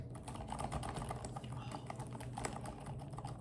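Steady typing on a Kensington MK7500F QuietType Pro silent mechanical keyboard, with soft, muted, rapid keystrokes running continuously at close range and no voice.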